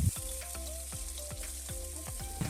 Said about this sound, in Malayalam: ഇനി ഇതൊരു ബ്രൗൺ നിറമാകുന്ന വരെ ഒന്ന് വഴറ്റി കൊടുക്കണം കേട്ടോ.